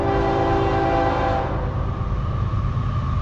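A CSX freight train sounds its horn in a loud, sustained multi-tone blast that cuts off after about a second and a half, leaving the heavy rumble of the passing train.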